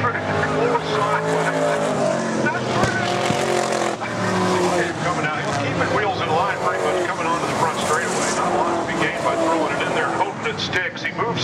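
V8 race cars lapping Brands Hatch, a Ford Mustang among them, roar loudly and continuously with tire squeal mixed in while a commentator talks over the engines throughout.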